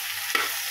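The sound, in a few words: okra, garlic and onion sautéing in a pan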